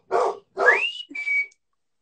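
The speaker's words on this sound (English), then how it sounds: "Oh, that's my dog." A dog indoors gives two short, sharp barks close by, followed by a high drawn-out whine or whistle-like tone before falling quiet.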